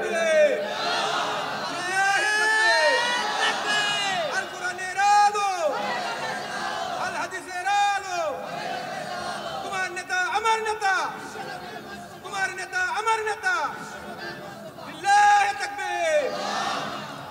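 A large rally crowd at an Islamic sermon gathering in Bangladesh roars the takbir chant in repeated rhythmic waves, about six loud collective shouts answering a leader's calls, with voices swelling and fading between each.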